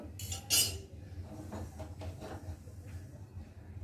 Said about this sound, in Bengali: জলটাকে একটু ফেলে দেবো, বাটিটা দিয়ে আর কড়াটাকে ভালো করে মুছে নেব